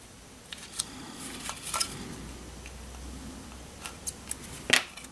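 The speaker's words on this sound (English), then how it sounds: "From the back side, take a sharp blade, cut from the corners into the center." A sharp blade slicing through a Chevy gauge cluster decal from the back side, several brief crisp snips and ticks spaced irregularly, close and quiet.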